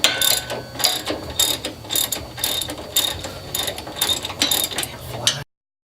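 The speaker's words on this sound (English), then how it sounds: "we're going to take our 4 steering box bolts and take those out" A ratchet wrench backs out the steering box bolts on a Jeep JK, giving steady bursts of loud, close, rapid clicking in repeated strokes with brief pauses between them.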